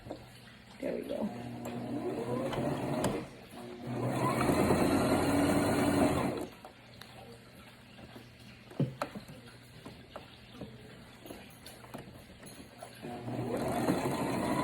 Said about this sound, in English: I think I'm gonna just sew right there at the top.